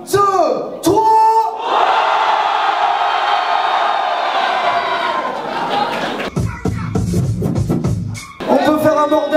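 Crowd at an open-mic rap cypher in Marseille, cheering and yelling loudly for the performers, with a sustained roar of voices, some shouts and scraping noise, and a livelier burst near the end.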